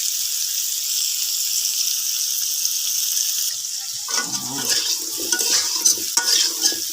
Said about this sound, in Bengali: আলুগুলা ভাজি হয়ে গেছে এখন নামিয়ে নিব